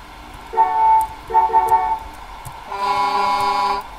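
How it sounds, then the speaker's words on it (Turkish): A newly fitted horn on a Mercedes Axor truck honks in three close, loud blasts, two short toots followed by a longer sustained one, with no talking. "Evet arkadaşlar kornasını değiştirdik."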